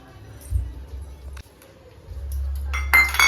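A bowl being fetched and handled in a home setting, with a few scattered light clinks and knocks of dishware, ending in a brighter cluster of clinking.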